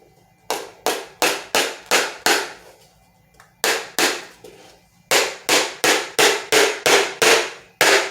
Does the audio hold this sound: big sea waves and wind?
no